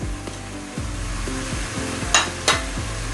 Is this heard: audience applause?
no